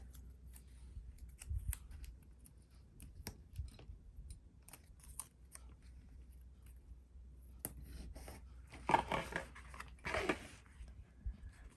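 Scissors snip paper for a scripture journal, with scattered quiet cuts and a couple of longer slicing strokes near the end, close but faint over low room hum.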